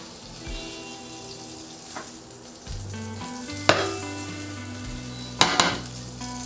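Butter sizzles and crackles in a hot frying pan on medium heat, a continuous close hiss with occasional louder pops and clatters of the pan.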